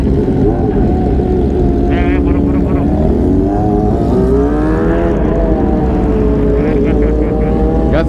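A Kawasaki ZX25R four-cylinder motorcycle revving and accelerating nearby, its high engine note rising and shifting pitch, loud and continuous with voices talking over it.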